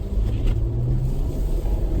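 A vehicle on Cooper Discoverer AT3 4S tires drives through about three inches of heavy wet snow and slush, a steady loud low rumble of engine and tires heard from inside, with no talking.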